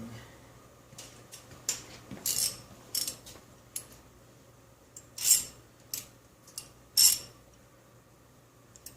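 A cheap ratchet wrench fitted with a 17mm socket works on a Geo Tracker engine during a water pump and timing belt job, giving sharp metallic clicks and scrapes in irregular close bursts with quiet pauses between, no talking.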